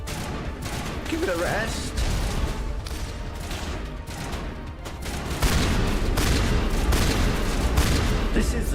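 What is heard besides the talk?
gunfire in the video game Mass Effect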